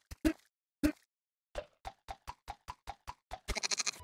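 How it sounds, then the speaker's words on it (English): Siv's hooves clop on concrete in the 3D platformer Corn Kidz 64: two heavier hits, then a quick, even run of crisp steps ending in a dense flurry of clatter. "when Siv walks on concrete or hard surfaces, you can hear the clopping of his hooves"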